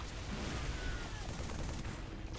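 Gunfire in Halo 3 on Legendary, enemy weapons shooting at the player, rapid bursts of shots layered into a dense, steady roar across the whole clip, fairly quiet overall.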